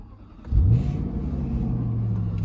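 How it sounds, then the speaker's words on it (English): A Jaguar XFR's engine cranks and catches, with a short rising rev before settling into a steady low idle rumble, close by and otherwise quiet. "I'm just gonna start the engine up"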